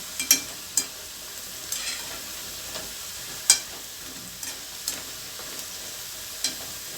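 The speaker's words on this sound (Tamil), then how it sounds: "இப்போ பாருங்கள் இந்த சலசலப்பு அடங்கட்டும்" Bitter gourd pakoda deep-fries in hot oil as a faint, fine crackling sizzle, punctuated by scattered sharp pops and light taps through the clip, with no voices.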